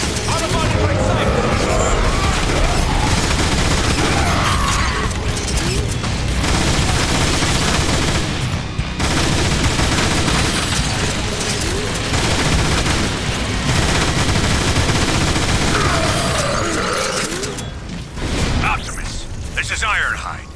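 Dense, sustained gunfire from Transformers: War for Cybertron during the Chapter 6 defence of Iacon, with rapid bursts and blasts layered over game music and effects for about twenty seconds, and voices speaking over the battle.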